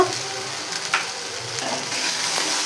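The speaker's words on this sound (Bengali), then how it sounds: "মশলাগুলো আমার ভালো করে ভাজা হয়েছে" Spices fry in hot oil for a chickpea dhoka gravy, producing a loud, close, continuous sizzle with faint scraping of stirring, and no talking.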